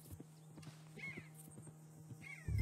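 A horse in the video game Red Dead Redemption 2 gives a faint whinny among soft, scattered clip-clop hoofbeats, quiet and somewhat distant, ending with a low rumble.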